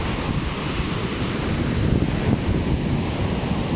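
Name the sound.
strong ocean waves crashing on a beach in Kuwait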